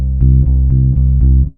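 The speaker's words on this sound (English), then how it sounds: "it's just going to give the impression of a bass player alternating," Virtual bass from EZBass with alternating index and middle finger plucks, a short run of six steady, deep, close notes ending in a quick fade.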